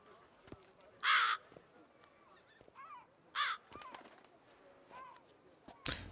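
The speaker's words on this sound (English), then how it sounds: "I think a flock of crows called a murder." Crows cawing in The Witcher 3: two loud, harsh caws a couple of seconds apart, with fainter bird calls and scattered game noises in between, no speech over them.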